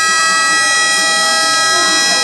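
A harsh, steady electronic buzzer sounds loud and unbroken for the whole moment, marking the end of play in an NBL Pilipinas basketball finals game between Tikas Kapampangan and Cam Sur.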